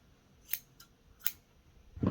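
Scissors snip knitting yarn, giving three sharp crisp cuts spaced about a second apart, followed by a dull handling thump. Close and quiet, with no voices.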